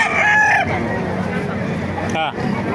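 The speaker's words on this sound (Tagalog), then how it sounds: "Kakaibang manok, nakita natin din sa Baliwag." A rooster crows loudly and close by at a chicken market in Baliuag, a single bright call at the start, followed by clucking fowl and a noisy market background.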